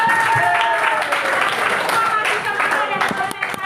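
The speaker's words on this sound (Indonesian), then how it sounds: "Ayo tepuk tangan dulu" Classroom children clapping together in a brief burst of dense, close applause, with voices mixed in.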